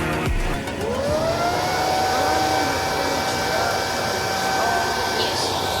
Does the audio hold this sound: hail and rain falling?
no